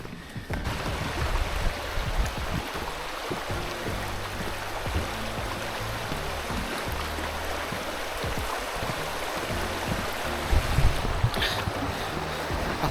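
A stream runs steadily along a Peak District hiking trail, its water rushing in a continuous broadband wash that stays loud and close throughout, with wind buffeting the microphone and no talking.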